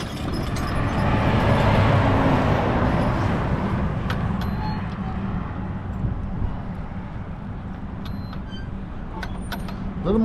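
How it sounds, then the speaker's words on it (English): Steady broad rumble of road traffic passing by outdoors on a Labor Day, continuous and moderately loud, with vehicles swelling and fading in the distance. "A little more traffic than I thought for a Labor Day"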